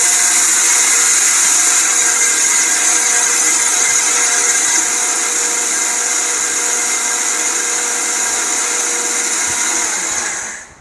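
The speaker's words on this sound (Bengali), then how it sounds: "আমরা কিয়াম কোম্পানির একটা ব্লেন্ডার দেখাচ্ছি সাতশো পঞ্চাশ ওয়াট দেখি কতটুকু শক্তি আছে" A Kiam 750-watt kitchen blender grinds dry rice into powder, its motor a loud, steady high-pitched whine with a faint rattle that runs unbroken for about ten seconds, then quickly winds down and stops.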